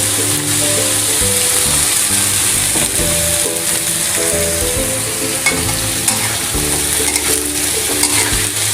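Pumpkin and pork stir-fry in a hot pan with a loud, continuous sizzle, broken by the scrape and clatter of a spatula tossing the pieces, close up.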